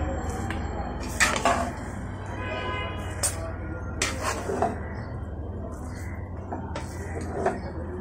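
Partly boiled rice being scooped from a cooking pot, with a few scattered metallic scrapes and clinks of a spoon against the pot over a low steady background hum.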